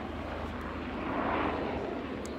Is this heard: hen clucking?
no